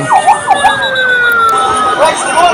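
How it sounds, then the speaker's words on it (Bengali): Emergency sirens on ambulances in Dhaka after a plane crash sweep up and down loudly and close, one overlapping another, over a steady rumble of traffic and a crowded street. "একের পর এক ঢাকার বিভিন্ন হাসপাতাল থেকে অ্যাম্বুলেন্সগুলি যাচ্ছে"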